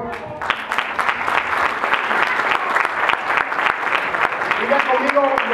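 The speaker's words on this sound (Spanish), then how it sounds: "denle un aplauso a Dios, por favor" A church audience at a Christmas event claps in a lively, uneven burst, with distinct sharp hand claps standing out over the crowd and a voice breaking in near the end.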